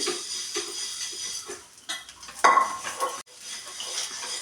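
Mixed-lentil appe dumplings are turned over in an appe pan: metal tools clink and scrape against the pan, with soft sizzling underneath and a sharp clatter about halfway through, all close and with no speech.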